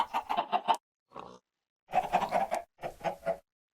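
Chicken-like creatures in a survival video game cluck in quick bursts, several rapid throaty clucks in a row, fairly close and clear, with short pauses between the runs.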